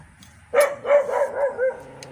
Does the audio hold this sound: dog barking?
yes